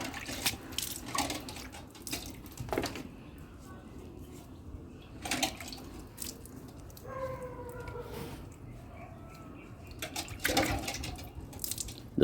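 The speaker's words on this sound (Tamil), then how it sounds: "இப்போ மடி நல்லா தேய்ச்சி கழுவணும்." Water splashing and trickling as the udder of a native cow is washed and rubbed, in intermittent close bursts, with a person talking over it.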